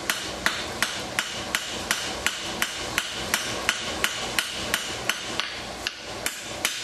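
A blacksmith hammers hot steel on an anvil while forging quarter-inch tongs, shearing over the anvil's soft corner. Close, sharp ringing strikes land in a steady, rapid rhythm, roughly three per second, with nothing else over them.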